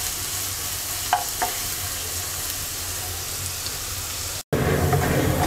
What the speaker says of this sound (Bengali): মিডিয়াম সাইজের 3টা পেঁয়াজ কুচি দিয়ে দিচ্ছি। পেঁয়াজটাকে হালকা ব্রাউন কালার করে ভেজে নেব।